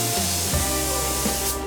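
A spray gun lays a second coat of paint on a car with a close, continuous hissing spray, accompanied by a steady background hum.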